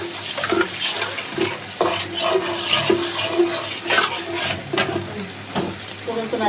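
Water is poured into a pan of sizzling, well-fried spiced masala, sending up a loud hiss and bubbling with the clatter of a spoon stirring. The sound is close and steady throughout.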